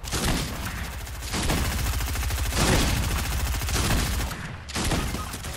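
Sustained bursts of automatic gunfire in the video game Fortnite, loud and dense, with brief gaps between volleys and no talk over them.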